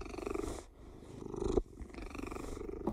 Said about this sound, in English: I don't know if you can hear him purring.